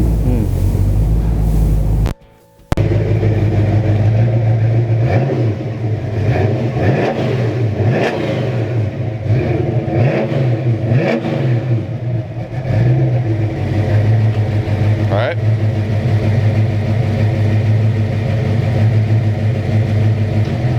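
A 1965 Ford Mustang Shelby GT350R engine starts after a brief pause, then revs repeatedly in loud rising and falling bursts before settling into a steady rumbling idle.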